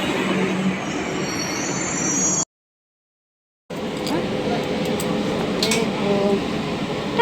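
A metro train runs along the track with a steady rumble and intermittent wheel squeal, loud and close from inside the carriage, broken by a brief silent gap in the middle.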